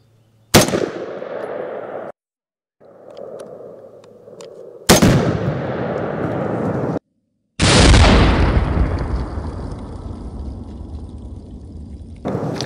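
An IWI Tavor X95 bullpup rifle fires three loud, sharp shots at a shooting range, each crack followed by a long ringing echo and decaying boom, spaced a few seconds apart with no talking.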